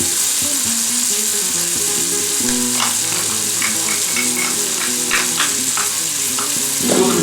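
Chilli con carne sizzles loudly in a pan just after basil and coriander go in, a dense continuous frying hiss punctuated by repeated scraping and clinking of a spoon stirring, with no talking.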